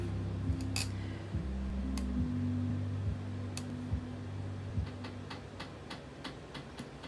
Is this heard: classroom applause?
no